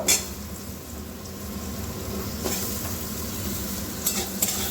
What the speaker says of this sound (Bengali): এবার আগে থেকে যে কুটে ধুয়ে রেখেছিলাম সেই আলুগুলো দিয়ে একটু হালকা করে ভেজে নেব